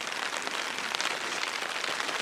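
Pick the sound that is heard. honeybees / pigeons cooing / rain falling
rain falling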